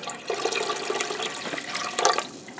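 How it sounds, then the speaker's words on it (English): Vinegar is poured into water already sitting in a home canner, a continuous splashing, gurgling pour close by that swells near the end. "I have to add my vinegar."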